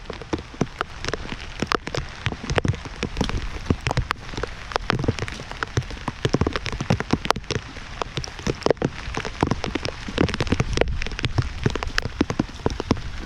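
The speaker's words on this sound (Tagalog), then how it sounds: "Yan, maulan po ngayon." Steady rain patters over rice paddies, a dense continuous hiss of drops with scattered sharper close taps on nearby surfaces, holding at an even level throughout with no voices.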